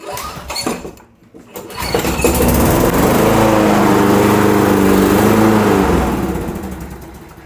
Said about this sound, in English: Here, I'll show you it starting real quick.